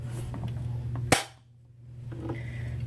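Stinger P311 M1911 airsoft pistol fires one sharp, loud shot that snaps out and then quickly fades to near silence, with a low steady hum underneath.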